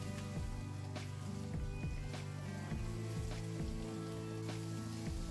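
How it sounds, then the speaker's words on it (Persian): Tomato paste and mushrooms sauté in a pan for a Persian bean pilaf, giving a steady, close sizzle and crackle that runs throughout beneath sustained musical tones. "دو قاشق رب اضافه می‌کنیم، خوب تفت می‌دیم تا رنگ ربمون باز بشه."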